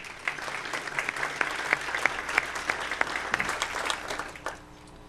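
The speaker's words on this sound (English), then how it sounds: "Give Carol a round of applause" A room of guests at a county legislative update luncheon applauds for the caterer, a steady wash of many hands clapping with sharper individual claps popping through, fading out near the end.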